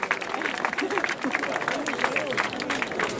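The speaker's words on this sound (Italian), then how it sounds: "Un applauso ai cavalieri." A festival crowd applauds the horse riders after the Festa di San Giorgio race in Vieste, with dense, continuous clapping and a voice speaking over it.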